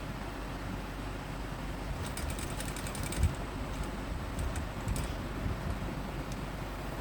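A sewing machine stitches a fabric strip on a kurti, a steady close mechanical whir with brief bursts of rapid ticking from the needle mechanism.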